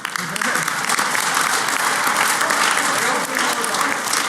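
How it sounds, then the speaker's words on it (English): Audience applause at the Pwnie Awards ceremony during Black Hat 2013, a loud, steady wash of many hands clapping from a large crowd, sustained throughout without letup. "Applaud now."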